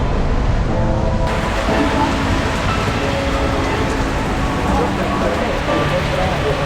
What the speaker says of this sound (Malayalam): മൂന്നാറിൽ മഴ, ഇത് ഇന്നും മഴ.